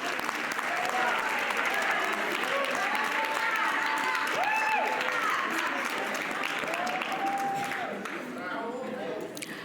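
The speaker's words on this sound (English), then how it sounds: "A round of applause for all our winners this evening." Audience applause for winners at an awards broadcast, continuous close clapping with cheering over it, sustained at full loudness before thinning slightly near the end.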